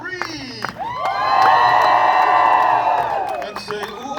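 A crowd at the Polynesian Cultural Center in Hawaii screams and cheers for a tree-climbing show, a loud sustained roar swelling for about two seconds and then fading, with scattered shouts and a voice before and after.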